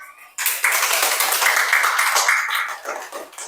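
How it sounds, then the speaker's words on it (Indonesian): A class in a Catholic religious education teacher training program breaks into applause for a group, a burst of many hands clapping that starts abruptly after a brief pause and stays loud and close, tapering slightly near the end. "Tepuk tangan untuk kelompok 2."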